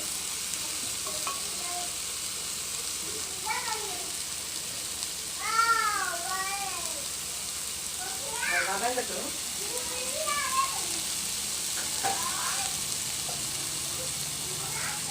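Ingredients for a squid curry with mango and drumstick sauté in a pan with a constant close hiss. Scattered high chirping, meow-like calls rise over the sizzle throughout.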